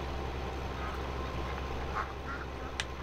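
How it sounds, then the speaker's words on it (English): Ducks quack in the Farming Simulator 2017 video game on the Lone Star map, two or three short, mid-volume quacks over a steady low hum of farm machinery, with no talking. "I don't mind the ducks that come over, but they're just too frequent"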